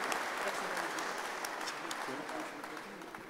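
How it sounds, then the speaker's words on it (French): An audience at a club meeting claps steadily in dense, sustained applause, fairly soft and slightly fading over a few seconds. "Oui, on peut applaudir."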